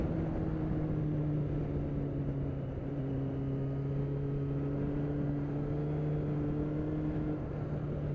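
A 1999 Kawasaki ZX6R Ninja G2 motorcycle cruises along a scenic road, its engine giving a steady, sustained drone with wind rush, holding an even pitch throughout with no speech.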